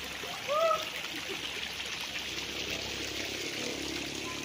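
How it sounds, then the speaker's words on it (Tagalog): Steady spring water flows continuously into a swimming pool at a resort in Liliw, Laguna, a constant gentle rush heard at moderate distance. "Bukal po yan. Diretso pa sa swimming pool yan."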